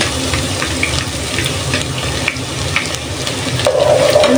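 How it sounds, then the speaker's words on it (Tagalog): Garlic sizzles in hot cooking oil, a steady frying hiss with soft stirring scrapes, fairly loud and close, no voices over it. "Ngayon ay lalagay na natin yung ating bawang."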